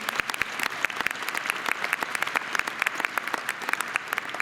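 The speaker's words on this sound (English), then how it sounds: "Let's give them a round of applause for all they do." Sustained audience applause at a medical school graduation ceremony, many distinct claps ringing out across a large hall at a steady, moderate volume.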